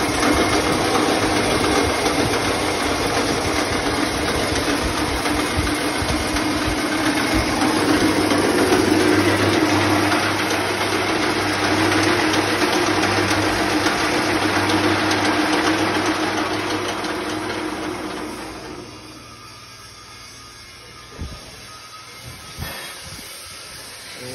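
Motor-driven chaff cutter (chara cutting machine) with a gear system for speed, running loudly and steadily for about eighteen seconds with a mechanical hiss and hum before winding down to a quieter rumble.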